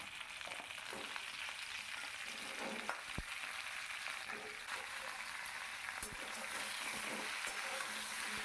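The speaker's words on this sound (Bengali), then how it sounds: "এবার যে তেলটা আছে তার মধ্যে ভেন্ডিগুলো ছেড়ে দিলাম" Okra pieces dropped into hot oil left from frying potatoes fry with a continuous dense crackling hiss. The sizzle stays even and fairly quiet throughout, with occasional faint clinks of a utensil.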